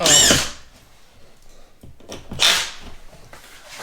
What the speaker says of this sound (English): I want to screw this piece of drywall into this side